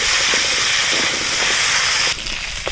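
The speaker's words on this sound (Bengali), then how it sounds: "ভালো করে আলু আর কচু ভেজে নেব" Potatoes and taro sizzle loudly in hot oil in a pan with turmeric and salt, a dense continuous hiss with small crackles that drops in level near the end.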